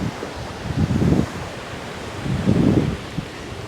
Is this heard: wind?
yes